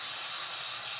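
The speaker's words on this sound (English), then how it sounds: "I'm spraying enough of it to get it a real popping pink." Pink colour spray hissing steadily from an aerosol can onto a batch of slime made with Vaseline, a close, continuous spray lasting about a second with no voices.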